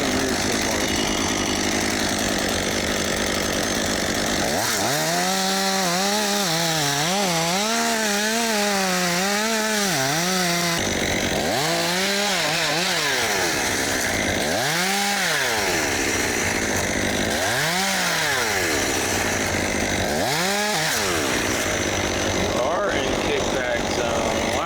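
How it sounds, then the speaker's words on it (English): A chainsaw cuts into a tree during a mobile-crane tree removal over a house, its engine revving up and down in several bursts with loud broadband noise throughout. "I was talking about the chainsaw bar"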